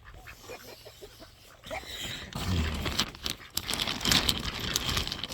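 Ducks and geese left outside at night call with honks and quacks that grow louder and busier partway through, over a noisy outdoor background.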